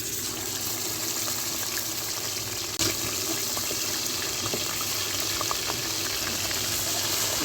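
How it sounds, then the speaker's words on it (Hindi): Ginger garlic paste frying in hot ghee for a fish curry gives a steady, close sizzle with a watery hiss that runs unbroken throughout, with one brief sharp tap partway through and no voices. "घी गर्म हो गया है, सबसे पहले अदरक लहसुन को फ्राई कर लेंगे हम।"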